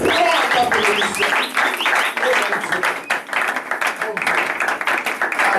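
A church congregation applauds and cheers in acclamation at a worship service in Saint-Étienne, a dense, steady wash of clapping and voices filling the room without pause.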